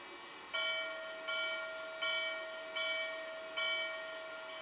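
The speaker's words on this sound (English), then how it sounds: "Here's the bell." A Lionel model train locomotive bell rings five times in a slow, even rhythm, each clang ringing out before the next strike; moderately loud and alone.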